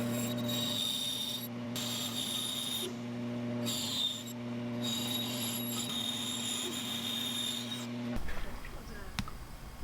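An ironwood jerkbait lure blank being sanded makes a continuous abrasive rasp over a steady machine hum, with short pauses, then stops near the end, leaving softer handling noise.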